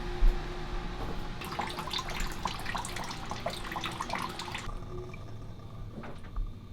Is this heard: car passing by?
no